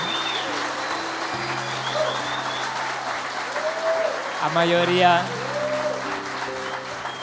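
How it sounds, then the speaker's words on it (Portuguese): A gathered crowd welcoming newcomers at a group meeting claps steadily in sustained applause, with voices and some tonal sounds mixed in over the continuous clapping. "Uma salva de palmas a todos que estão"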